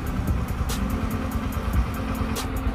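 A motorcycle engine runs steadily close by during a static balance exercise with the front wheel against a wall, a continuous low rumble with faint rhythmic ticking and no voices.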